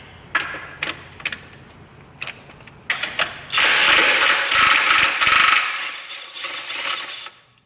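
A ratchet works the studs and nuts of a UTV's inner clutch cover on a Turbo S or Pro XP type machine, giving sharp scattered clicks that lead into a dense, loud run of rapid ratcheting up close.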